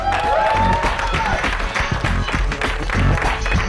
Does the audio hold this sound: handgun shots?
no